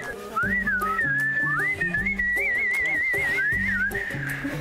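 A person demonstrates a farmer's whistle: a loud, sustained, wavering whistled tone that slides up, then trills and warbles across several seconds, played over a rhythmic musical backing.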